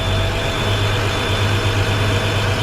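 A truck engine in neutral with both air brakes applied revs up, giving a steady, loud mechanical drone with no voices.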